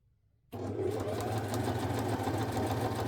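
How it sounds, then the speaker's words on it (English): A sewing machine stitches a coat sleeve, easing the fabric around the sleeve cap. After a brief quiet moment it starts and runs as a steady, close, even motor whir. "So we are going to sew, and as we sew we're just going to pull this fabric, the top piece,"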